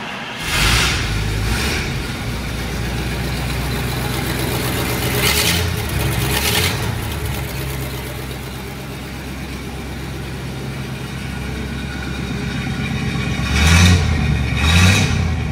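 A 1938 Cadillac Series 75 Convertible Coupe's engine cranks and catches, then settles into a steady, loud, low idle close by, with a few brief revs rising above the rumble near the start, midway and again toward the end.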